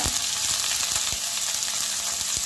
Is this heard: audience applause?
no